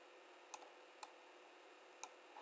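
Three sharp, faint computer mouse clicks ring out in a quiet room while a drawing app is used, with two close together and a third a second later.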